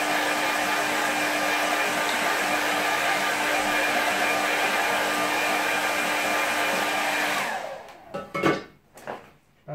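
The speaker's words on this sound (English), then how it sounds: "So just go with the hairdryer." A hair dryer blows steadily and loudly on a wet watercolour landscape painting, then switches off, followed by a few soft handling knocks.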